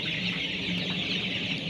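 A flock of 21-day-old Colorbird chickens clucks steadily in a poultry shed, a dense continuous chorus of soft calls with no talking.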